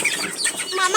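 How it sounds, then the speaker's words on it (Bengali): Domestic chicken chicks give short, high chirps and clucks up close, several quick calls in a brief burst. "প্রতিটা মুরগির বাচ্চাকে"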